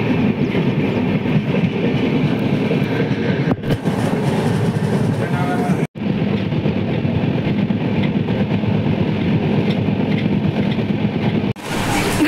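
A train rolls along the rails with a loud, steady rumble and rattle that continues throughout, broken only by a couple of brief dropouts.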